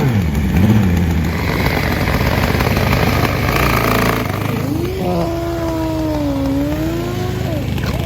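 Old-school Turbo KZ and a nitro top fuel Harley drag racing motorcycle at an NHRA cycle drag event: a loud, continuous engine roar with a steady rumble, then a whining tone that rises and falls, with faint voices underneath.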